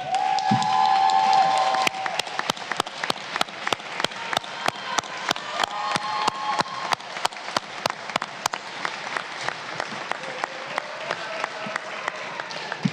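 Chamber deputies in the Argentine Congress applaud the sign language interpreters with a short burst of cheering and a voice at the start, then a long, fairly close round of clapping that settles into sparse, distinct claps with a few voices underneath.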